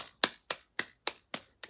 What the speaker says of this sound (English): Mesha, Can we give Mesha a round of applause?